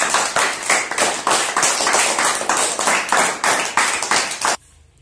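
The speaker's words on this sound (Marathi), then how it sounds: "सगळ्यांनी त्याच्यासाठी जोरात टाळ्या वाजवायच्या" Children in a classroom clap loudly for a classmate, a quick, steady burst of about a dozen rhythmic group claps close by that stops abruptly, leaving near silence.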